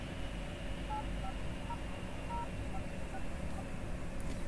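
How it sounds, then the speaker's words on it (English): Short DTMF tones sound in a quick irregular sequence as a number is dialed on a cell phone, close and clear above a steady low background hum. "I dial the number."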